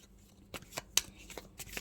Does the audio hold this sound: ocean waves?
no